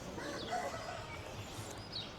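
Chickens cluck faintly in a breeder pen with roosters and broody hens, scattered soft calls over a quiet background.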